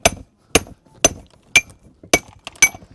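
A stonemason's pick hammer dresses stone for a dry-stone wall in Sardinia. Six sharp, ringing strikes land at a steady half-second pace, close and clear, each followed by faint chips and scraping with no talk.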